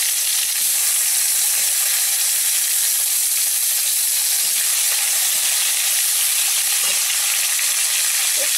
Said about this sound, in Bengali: একটু টমেটোটা ভাজা ভাজা হয়ে যায়।